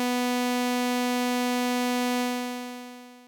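An Xfer Serum synth note held at full sustain, then fading out gradually over its long release rather than stopping abruptly.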